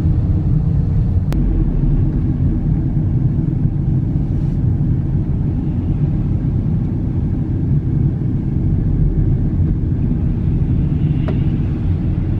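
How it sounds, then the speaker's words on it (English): A car drives on a slippery snowy road during a winter snowstorm in America, its interior filled with a steady, loud low rumble of tyres and engine, a couple of faint clicks, no talk. "Ini sedikit goyang-goyang ini mobilnya."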